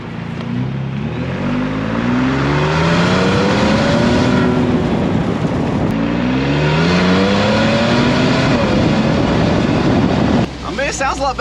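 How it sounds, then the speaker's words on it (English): A Ford Bronco with an EcoBoost V6 revs hard on a test drive, the engine climbing through two long rising pulls under steady wind noise, with voices in the cabin now and then. "It's an EcoBoost V6."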